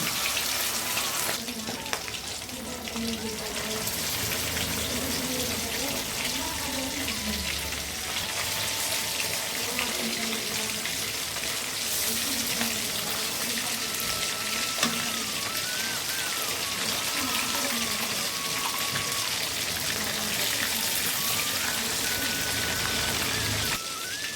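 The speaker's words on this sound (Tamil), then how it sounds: "எண்ணெய் சூடாயிடுச்சு இப்போ ஒவ்வொன்றும் நம்ம பொறிச்சு எடுத்துக்கலாம்" Fish fries in hot oil in a home kitchen, a dense steady sizzle and crackle like heavy rain that carries on throughout, with faint voices now and then.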